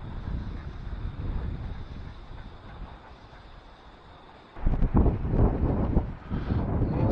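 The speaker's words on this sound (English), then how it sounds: "You can see how windy it is though, guys." Wind gusting across an outdoor river, loch or sea fishing spot, a steady low buffeting rumble on the microphone that swells louder and rougher for the last few seconds.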